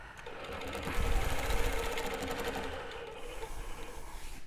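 A longarm quilting machine stitches steadily, its rapid needle rhythm humming along continuously and close by, with a brief louder surge before settling back to an even whir.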